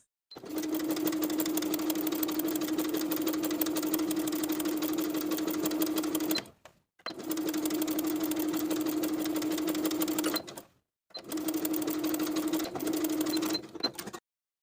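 A sewing machine understitches bias binding to a seam allowance on a tank top, running in three long, steady bursts of even humming with short silent pauses between them, close and loud.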